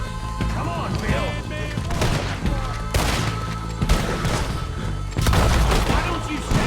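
Gunfire in the Red Dead Redemption 2 video game, several sharp shots cracking out at irregular intervals amid rumbling game sound and a voice.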